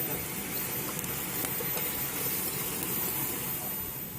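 Steady loud sizzling of food frying in a pan over a cooking fire in a forest, a continuous dense hiss with no pauses and no speech.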